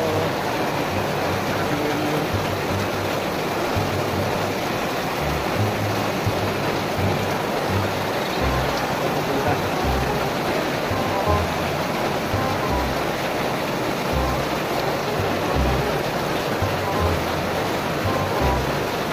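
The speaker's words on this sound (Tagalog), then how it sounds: "Balik na naman yung lalakas ng ulan." Heavy typhoon rain pours down steadily, a dense, loud rushing hiss with low rumbling underneath, continuous throughout.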